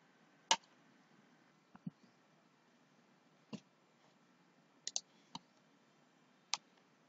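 A computer mouse clicks while a Web API project is set up, with about eight sharp, quiet, isolated clicks at irregular intervals, some in quick pairs, over near silence.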